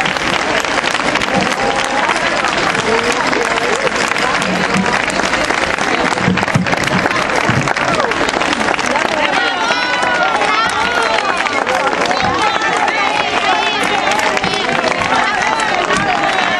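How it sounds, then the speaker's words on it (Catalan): Loud, sustained applause from a large crowd at a gathering in Benicarló, dense steady clapping with cheering and chatter mixed in throughout. "Gràcies, un fort aplaudiment."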